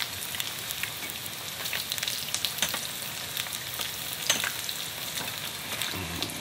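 Food fries in hot oil with a continuous close sizzle and scattered sharp pops and crackles, with no voices over it.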